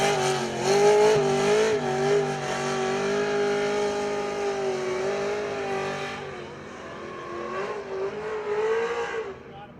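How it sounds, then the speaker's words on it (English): Loud, sustained engine revving from cars performing burnout demonstrations at SEMA Fest in Southern Nevada, a steady high-pitched roar, likely with tire squeal, that holds for several seconds and then fades slightly before rising again. "the event also showed impressive burnout demonstrations and SEMA-themed car shows"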